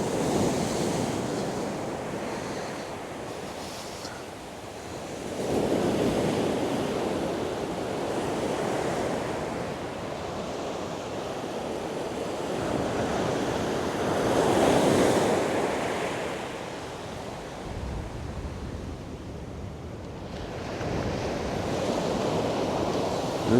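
Waves break on a North Sea beach at sunrise in cold winter weather. The surf is loud and steady, swelling every few seconds, with wind buffeting the microphone throughout.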